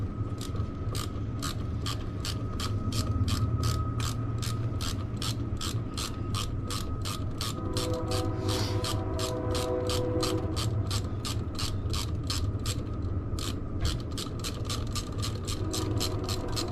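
Ratchet with a 10mm socket turning a bolt on a Dodge SRT4, a quick steady run of close metallic clicks over a constant background hum.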